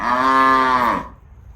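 A single loud cow moo, deep and drawn out for about a second, then fading into quiet.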